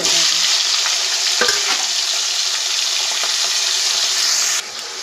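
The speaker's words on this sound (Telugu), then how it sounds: "ఆయిల్ హీట్ అయింది. పొటాటో వేసేసుకుందాం" Half a kilo of potatoes frying in hot oil in a pan, a loud, steady, close sizzle with faint stirring scrapes that drops slightly in level near the end.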